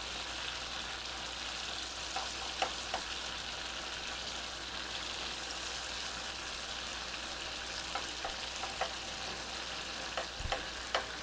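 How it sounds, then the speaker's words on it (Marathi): Spicy sweetcorn is mixed in a pan as a steady, soft sizzle runs throughout, broken by a few faint scraping taps of the spoon against the pan. "आणि हे आता आपण छान सगळं मिक्स करून घेऊया."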